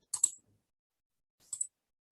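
A computer mouse clicking during a copy and paste in Cricut design software, two quick double clicks spaced about a second apart, crisp and close in a quiet room.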